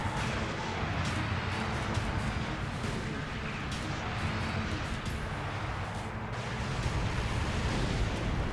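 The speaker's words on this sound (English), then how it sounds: "we'll just use a homing missile to finish him off" In the video game Twisted Metal: Black, a homing missile strikes an enemy car, a dense, continuous roar of blasts and rumbling engine noise that stays loud and even throughout.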